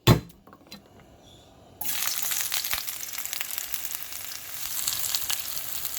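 Sliced ginger and garlic hit hot oil for chicken tinola, a brief clatter first, then a loud, steady sizzle crackling close up and continuing to the end without talking.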